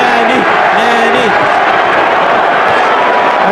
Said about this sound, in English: Crowd screaming, Manny, Manny.